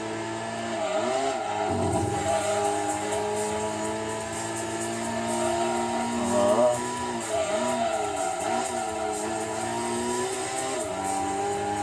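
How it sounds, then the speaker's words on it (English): Gran Turismo 2 race car engine, a Mini or MG from the challenge events, holding a steady loud drone, then blipping and dropping pitch through a throttle downshift around the middle, revving back up afterward with no talk. "that throttle downshift"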